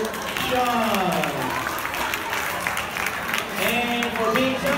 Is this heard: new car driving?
no